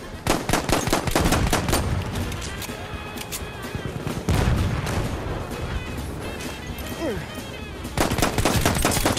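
Rapid gunfire from a Battlefield 1 match, with dense bursts of automatic shots, heavier impacts and brief lulls before another loud volley, while a player talks over the action.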